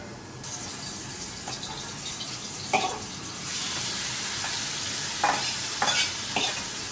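Chicken frying in oil, a steady broad sizzle with a few louder bursts and clinks as pieces are added or stirred, fairly close, with no talking.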